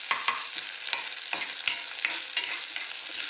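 Onions fry with ginger-garlic paste in a pan for a chickpea dish. Close, steady sizzling is broken by repeated scraping stir strokes, with no talking.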